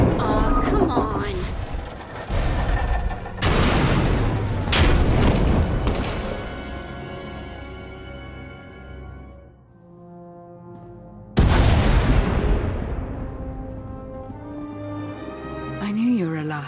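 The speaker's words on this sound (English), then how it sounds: "We heard explosions." Heavy booming explosions in the sci-fi video game Star Wars: The Old Republic, several loud blasts landing one after another with long rumbling decays, then a lull and one more big detonation near the end.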